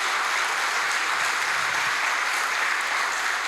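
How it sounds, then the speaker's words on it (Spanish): Church audience giving a strong applause for a group of children, a continuous, even roar of many hands clapping at once, loud and sustained without break. "ante todo pediría un fuerte aplauso para estos chicos"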